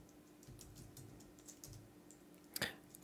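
A terminal command being typed on a computer keyboard, faint and close, with soft scattered key taps before a single sharper clack near the end.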